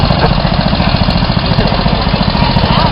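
A 1927 Gibson 10 horsepower tractor engine runs steadily at a harvest reunion show, a loud, close, continuous chugging drone with a fast even pulse and no talk.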